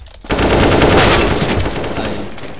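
A sustained burst of automatic gunfire from Counter-Strike: Global Offensive, loud and dense for about two seconds before easing off slightly.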